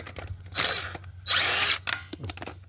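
A cordless impact tool with a 13/16 socket spins off hub bolts on a 2002 Chevrolet Silverado during a wheel bearing hub replacement. Loud, close whirring bursts start and stop several times, with short gaps between them.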